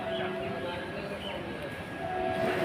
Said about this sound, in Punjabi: ਸ਼ਾਇਦ ਟ੍ਰੇਨ ਆ ਰਹੀ ਹੈ ਜੀ